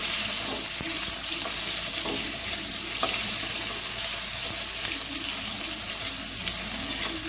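Eggplant frying in a pan for a chanda fish curry, a steady bright sizzle with occasional stirring clicks, close and continuous.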